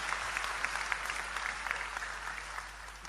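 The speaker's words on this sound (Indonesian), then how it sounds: "Tepuk tangan untuk beliau, enggak apa-apa." Steady audience applause fills a hall during an Islamic religious talk, a continuous wash of clapping from a crowd at moderate distance with no speech over it.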